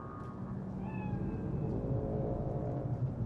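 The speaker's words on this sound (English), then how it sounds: "Chill, just a cat." A cat in Cyberpunk 2077 gives a couple of drawn-out, wavering meows over a low ambient hum, fairly soft and close, with no one talking.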